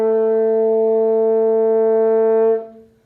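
A French horn holds a steady high E, played with tight, fast lip buzzing and no valves, a clear sustained tone for about two and a half seconds before it cuts off.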